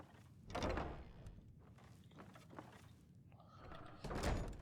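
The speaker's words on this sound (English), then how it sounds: "You know, doors opening, making a lot of sound." A wooden door creaks and thuds open in the fantasy game Skyrim, a couple of soft thumping mechanical knocks with a heavier thunk near the end, fairly quiet against a low ambient background.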